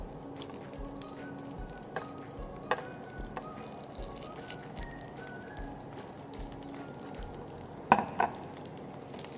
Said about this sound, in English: we will be using the entire dates which needs to be sauteed